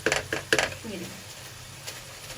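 Freshly fried crispy pizza fries clatter and scrape in a pan, with a few sharp knocks early on followed by a soft, steady sizzle close by; no one speaks.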